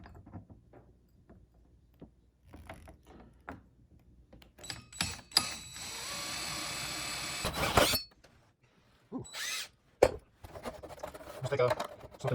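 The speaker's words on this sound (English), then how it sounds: "So just drill through there." A power drill bores through the housing of a Coleman RV air conditioner unit, whirring in a sustained burst and then a shorter one, with clicks and handling noises and someone talking between them.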